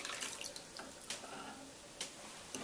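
Water poured into a mixing bowl while making oat power bars, a brief splashing stream with a few sharper splash bursts, fairly quiet and with no voices.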